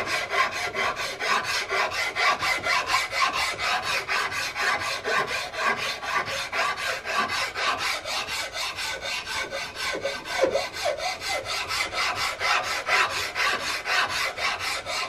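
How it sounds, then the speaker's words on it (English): A hand file rasps over wood around the mortise of a CVA Hawken muzzleloader rifle stock, in close, steady back-and-forth strokes with an even rhythm and no voices. "So I'm going to bring my file up"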